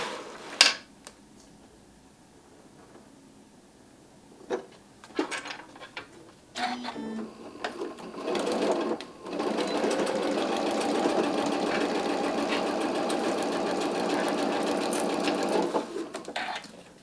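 A sewing machine stitches fabric for an Easter basket, with a few taps and clicks first, then a brief start and a long, steady run of rapid mechanical whirring.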